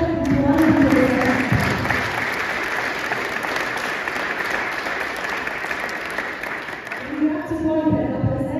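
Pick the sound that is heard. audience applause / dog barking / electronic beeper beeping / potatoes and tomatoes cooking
audience applause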